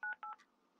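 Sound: telephone dialing tones in Roblox video game

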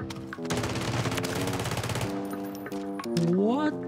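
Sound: rapid-fire weapon shooting in Warzone 3 video game

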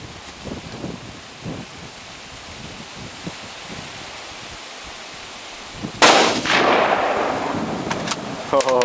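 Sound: suppressed Dragunov Tigr rifle shot

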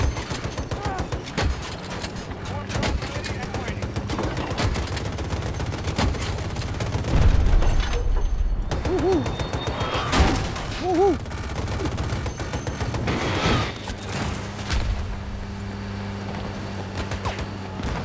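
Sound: explosions and gunfire in a video game

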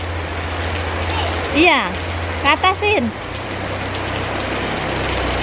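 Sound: heavy rain falling

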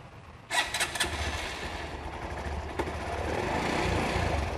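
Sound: motorcycle engine starting and idling smoothly

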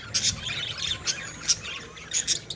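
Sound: lovebirds chirping

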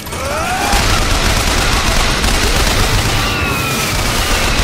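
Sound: gunfire in the video game Bioshock Infinite

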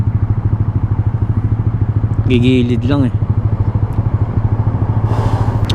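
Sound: motorcycle on the street

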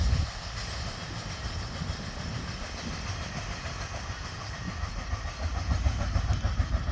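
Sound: CSR 70110 diesel locomotive hauling train 518

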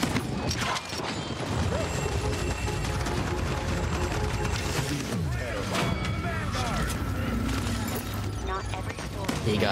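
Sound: grenade explosions in the video game Paladins

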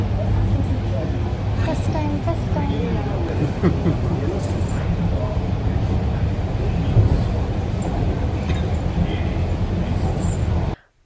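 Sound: metro train riding

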